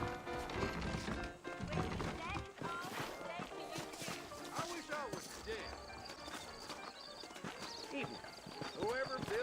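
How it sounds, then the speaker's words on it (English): Horse hooves clip-clop at a steady trotting pace beneath a voice talking, with faint background music and rustling, in the video game Red Dead Redemption. "I got the horses saddled up and ready out front."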